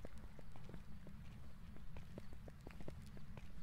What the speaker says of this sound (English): The sound of our uncertain footsteps.